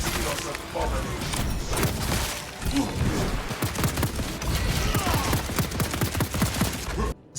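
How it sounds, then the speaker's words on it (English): Suppressed bolt pistol with explosive impact rounds in the Space Marine 2 video game, a dense, continuous barrage of rapid muffled shots and blasts mixed with battle noise throughout. "putting a suppressor on a weapon that has a bullet that explodes on impact"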